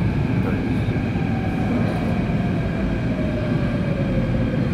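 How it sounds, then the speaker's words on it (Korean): A Seoul Subway Line 2 train bound for Hongik University rolls into Sindorim station, a loud sustained rumble with faint whining tones as it approaches the platform, no talking over it. "The train for Hongi University is approaching."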